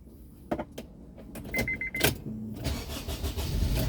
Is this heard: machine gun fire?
no